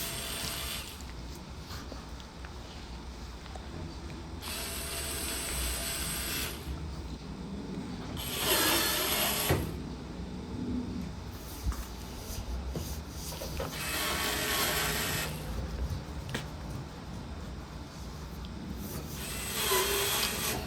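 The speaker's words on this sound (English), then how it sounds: "now we have to install the 8 Phillips head screws for the front panel to secure it." Eight Phillips head screws driven into the front panel of a Kenmore Elite gas dryer give repeated close bursts of gritty grinding and rubbing, each lasting a few seconds and separated by quieter pauses, with no speech.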